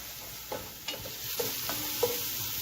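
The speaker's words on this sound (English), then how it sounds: "I'm going to stir this around until my onions are nice and soft" Onions sauté in a pot with a soft, continuous sizzle while a spoon stirs them, producing four or five light scraping knocks spaced about half a second apart.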